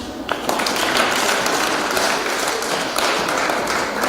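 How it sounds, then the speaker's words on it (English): Students clap together during a school session on language and values at a girls' high school, a steady burst of applause filling the room for about four seconds. "Can we clap?"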